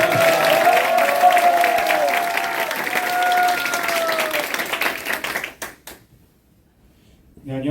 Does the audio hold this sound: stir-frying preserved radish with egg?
no